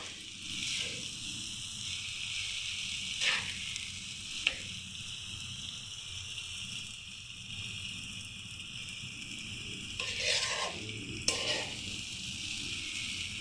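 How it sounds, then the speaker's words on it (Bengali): Egg stirred into a raw papaya stir-fry crackles with a steady, soft sizzle in the pan, broken by a few sharp clinks and scrapes of the spoon. "এভাবে ডিমটা মিশিয়ে নিতে হবে আস্তে আস্তে নেড়ে নেড়ে মেশাতে হবে"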